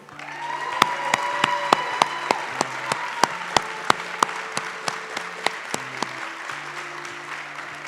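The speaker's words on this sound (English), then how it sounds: "Let's give one more round of applause for these 8 finalists" At a Youth of the Year event, an audience gives a round of applause for eight finalists: a broad crowd clapping with sharp, evenly spaced accented claps over steady background music tones.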